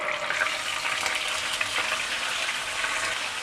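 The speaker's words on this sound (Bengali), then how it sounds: "তো এই তেলে আমি এবারে দিয়ে দেবো আদা রসুন পেস্ট করা।" Ginger-garlic paste spits and hisses in hot oil for chilli paneer, a dense, even sizzle that stays loud and close throughout with no pauses.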